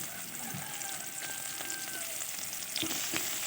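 Chopped onion, garlic, bay leaf and dried red chilli fry in hot mustard oil, a quiet continuous sizzle with a few clicks of a spatula stirring the pan.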